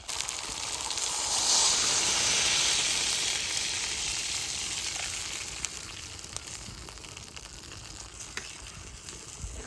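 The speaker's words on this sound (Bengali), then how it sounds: "এবার জল দিয়ে দেবো" Water poured into a hot pan of mutton with yogurt sets off a loud, steady sizzle and hiss that slowly settles into quieter crackling, close up with no voices.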